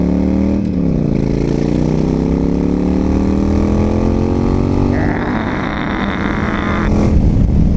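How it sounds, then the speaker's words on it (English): A Yamaha XVS 1300 Custom motorcycle engine runs loud and close, a steady throbbing drone whose pitch dips and then climbs through the gears as it accelerates. "It's a very angry engine."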